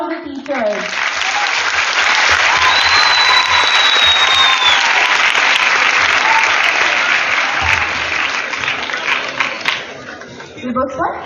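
An audience applauds teachers at a coaching institute toppers' event, a loud, dense burst of clapping sustained for about ten seconds, with a voice briefly heard at the start before the applause fades near the end.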